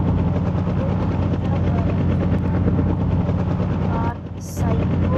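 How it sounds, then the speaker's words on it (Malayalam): Helicopter in the Indian Bike Driving 3D video game, a loud, steady rotor drone with low thudding that runs throughout and dips briefly near the end. "ഹെലികോപ്റ്റർ"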